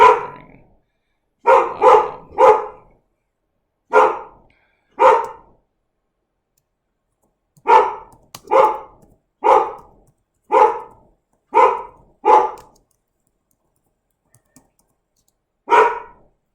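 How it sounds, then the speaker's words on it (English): Dog barking at home in short bursts of one to three barks with pauses between, fairly near and loud, no talk over it. "I may have to go stop my dog. I don't know why he's barking."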